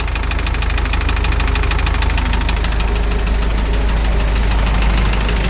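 A small Sprite car engine, a little motor in a rusty build project, idles steadily and loud with a dense, even knocking clatter that holds from start to finish with no talk.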